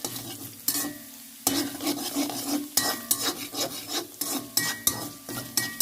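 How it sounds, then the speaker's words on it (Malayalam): Garlic and ginger fry and sizzle in a pan while a spoon stirs and scrapes them in repeated strokes, with a steady close sizzle underneath throughout. "അതിൻ്റെ കൂട്ടത്തിൽ ഞാൻ വെളുത്തുള്ളി ഇതെല്ലാം കൂടി മിക്സ് ചെയ്ത് ഒന്ന് കൂടെ ഒന്ന് മൂപ്പിച്ചെടുക്കണുണ്ട്"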